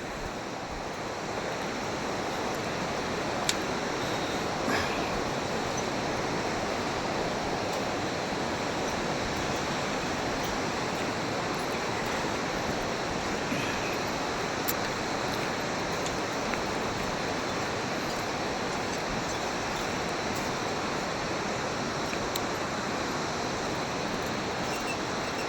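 A river running fast across a wide gravel bed, a dense, unbroken rushing roar that holds steady throughout, with no voices.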